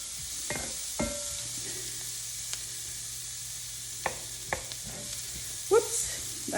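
Onions browning in rendered beef fat in a pot give a soft, steady sizzle beneath a low hum, broken by a few sharp clinks and taps of a utensil against the pot.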